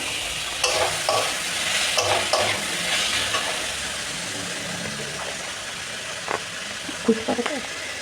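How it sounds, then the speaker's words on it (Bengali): Chicken pieces fry with ginger garlic paste in a pan, giving a steady broad sizzle, with a few scraping stirs and light clinks near the end. "মাংসগুলো দিয়ে দিচ্ছি"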